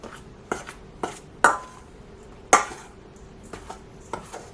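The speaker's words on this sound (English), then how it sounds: "So now I want to mix these 3 flours together." Three flours, including freshly milled whole wheat, mixed together in a bowl, a utensil giving a few sharp taps and knocks against the bowl spaced irregularly over a quiet background, close and without speech.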